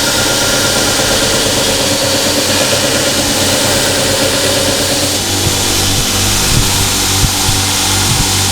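A belt grinder works a flat 5 mm piece of M690 steel, a loud continuous abrasive hiss over a steady motor hum that shifts in pitch partway through, close and with no talk.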